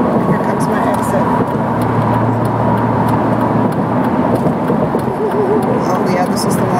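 Steady, loud road noise from a car moving along a busy twelve-lane highway, a continuous wash of tyre and engine rumble with traffic all around and no break in it.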